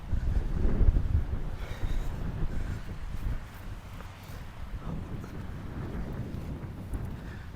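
Cold wind buffets and rumbles against the microphone outdoors in Malta, a constant low roar with gusts, louder at the start.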